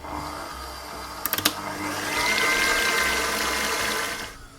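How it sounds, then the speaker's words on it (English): Hand mixer whipping thickened cream toward soft peaks, a steady whirring motor hum with a few brief clicks near the start, rising slightly then cutting off at the end. "Now using a hand mixer or a stand mixer, we're going to whip this up until soft peaks start to form."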